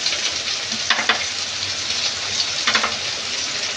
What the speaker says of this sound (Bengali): এগুলো ভালো করে কষিয়ে নেব।